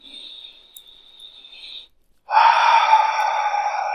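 Deep, slow breathing during a guided meditation, a long soft exhale followed after a pause by a louder, fuller breath, close and alone.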